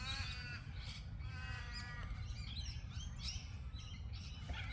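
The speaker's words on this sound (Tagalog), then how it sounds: "Marinig mo lang is huni or sound ng mga birds." Birds chirp and call repeatedly around the quiet grounds of Wilson Church, faint overlapping tweets over a soft low background rumble.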